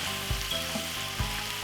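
Chopped vegetables frying in a pan for a tuna pasta give a steady, close sizzle with a few soft stirring bumps, and no talking.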